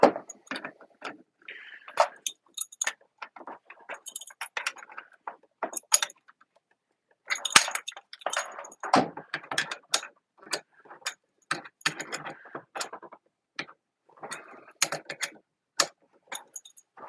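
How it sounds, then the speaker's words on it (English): A wrench torquing down a bolt while rebuilding an R2-D2 modular control unit, giving many close, rapid metallic clicks and ratcheting ticks in bursts, with one brief pause midway. "course, you're going to properly torque this down to, I don't know, what, 5 foot-pounds?"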